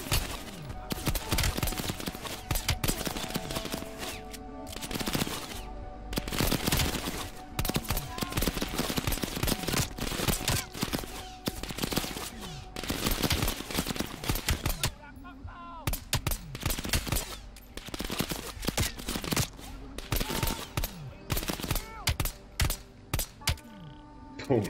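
Sustained gunfire in the video game Call of Duty: Black Ops Cold War, rapid automatic bursts and single shots repeating loudly throughout, with brief pauses and faint talk in places.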